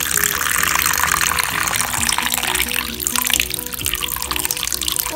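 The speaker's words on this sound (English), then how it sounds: "fill it up with some water and put it in the freezer" Water runs steadily into a container holding a plastic LPS toy before it goes in the freezer, a continuous close splashing gush that fills in for several seconds, with talk underneath.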